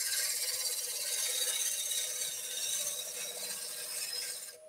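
A skew chisel scrapes across a spinning wooden cheese platter on a lathe, giving a steady, loud rasping whir that holds evenly for several seconds before easing off at the end.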